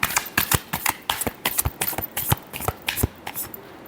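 Tarot cards are shuffled by hand in a rapid series of crisp riffling slaps and flicks, close and dry, during a love reading.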